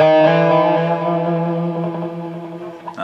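Electric guitar riff played through heavy distortion with a touch of chorus and reverb, sustained chromatic notes ringing close and loud over about three seconds, ending with a short string scrape.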